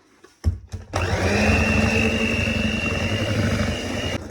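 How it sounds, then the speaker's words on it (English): An electric mixer starts after a few bumps and whirs in a steady, loud, close drone as it mixes milk into vanilla cupcake batter, then cuts off near the end. "So the milk goes in, and we just mix it basically then until it's all combined"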